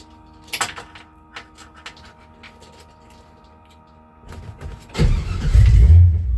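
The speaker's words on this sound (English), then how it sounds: "this truck is loud because I don't have exhaust on it" A pickup truck engine with no exhaust fitted cranks and catches near the end, roaring loud and rough, preceded by clicks, clatter and faint mechanical noise.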